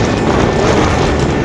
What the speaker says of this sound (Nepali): हावा चलिरहेछ कि आज यो मोबाइलै रोक्न गाह्रो भएको छ